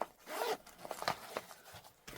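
A zipper on a mesh zipper bag inside an EDC bag pouch is pulled in a few short, close, quiet raspy strokes with small pauses between them.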